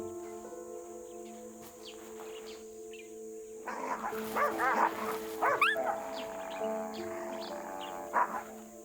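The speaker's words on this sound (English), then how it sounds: "a larger jackal from a bordering pack is already there" A jackal at a carcass beside a waterhole gives short dog-like yips and snarls in a brief flurry midway, over a steady bed of crickets and insects, with distant birds.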